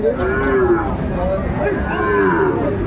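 Sahiwal cattle moo repeatedly at a busy cattle market in Dinajpur, Bangladesh, several low drawn-out calls overlapping, with people talking in the background.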